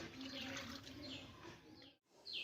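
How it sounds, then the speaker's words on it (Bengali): Mung dal lentils being washed by hand in clean water, with close swishing and splashing and a brief pause near the end before more sloshing. "তাই এই ডালটাকে আমি পরিষ্কার জল দিয়ে দুই থেকে তিনবার মতো ভালোভাবে ধুয়ে নেব"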